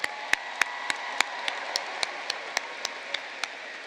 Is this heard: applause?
yes